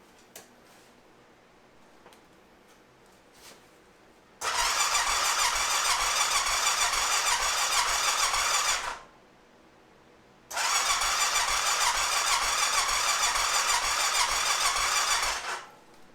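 A Honda Rincon ATV engine is cranked on full choke and fires twice, each time running loud and steady for several seconds before cutting out, with quiet gaps between the bursts.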